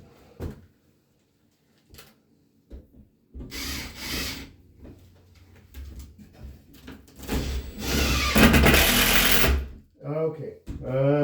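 Screws are driven into wood during remedial blocking: several bursts of a powered driver whirring and grinding, the longest near the end, broken up by someone talking and by handling knocks.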